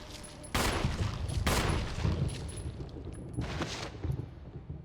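Gunfire in Resident Evil (2002), three loud, broadband blasts spaced about a second apart, each trailing into a rumbling echo over a steady noisy background.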